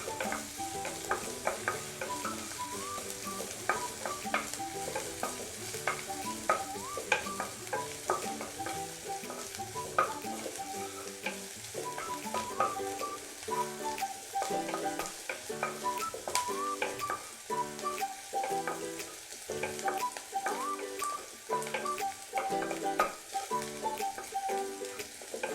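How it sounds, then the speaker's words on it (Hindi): Ingredients for hot and sour soup are stir-fried in a pan, a continuous close sizzle broken by frequent rhythmic scraping and stirring clicks of a utensil. "बस 1 मिनट या 2 मिनट जैसे हम फ्राई करेंगे।"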